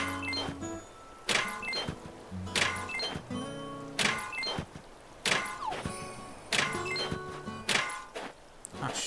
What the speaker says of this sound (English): let's hit this rock a couple times to get out my frustration about losing that.